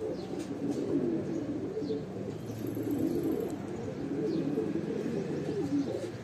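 Golden and red golden pigeons coo steadily in a loft in Bhopal, a dense overlapping murmur of soft throaty calls with a few faint chirps above it, continuous and close.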